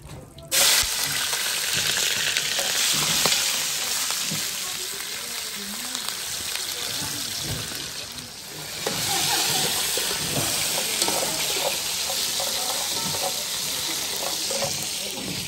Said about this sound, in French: Et là, ça fait revenir les oignons tout de suite.